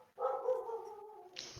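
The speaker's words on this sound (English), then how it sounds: "Apparently, there's some dogs on the San Juan" A dog gives a drawn-out yelping bark, a single faint whining call that ends with a short noisy burst.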